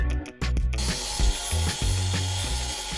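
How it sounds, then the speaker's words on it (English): Grinding work trims a slightly too-snug forward cabin storage part on a boat kit build, a steady close mechanical whir with repeated pulsing bursts and pauses as the tool bites along the edge, no voices. "In case you need a little grinding work."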